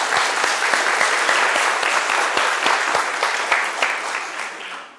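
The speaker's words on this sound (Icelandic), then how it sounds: "klappið bara." A congregation applauds inside Borgarnes church at the start of an evening pink mass, a steady, dense clapping that fills the room before fading out at the end.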